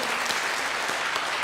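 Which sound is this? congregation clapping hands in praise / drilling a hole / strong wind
congregation clapping hands in praise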